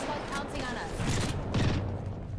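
Apex Legends match with a grenade blast and bursts of gunfire layered under excited talk from players, dense broadband booms and crackle through a couple of seconds.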